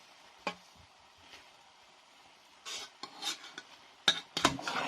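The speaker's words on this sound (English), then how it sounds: "I'm just going to mix everything through like this." Salmon being mixed with seasoning and black pepper in a pan, sparse scraping and clinking of a utensil against the pan, quiet at first then a busier cluster of scrapes and taps toward the end.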